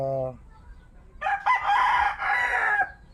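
Close, loud crowing from a rooster that can no longer stand, one long strained call after a brief low tone and a pause.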